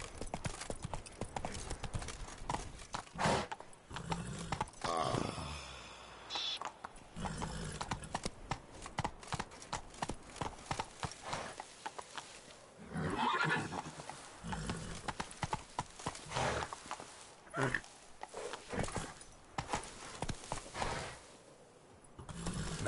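Roach, a horse in The Witcher 3, gallops with rapid rhythmic clip-clopping hoofbeats and gives an occasional neigh, loud and close throughout, with a brief faint voice.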